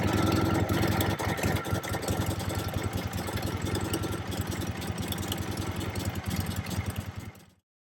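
A 1947 Harley-Davidson FL Knucklehead motorcycle idles close by with a steady, pulsing engine note, then cuts off abruptly into silence at the end.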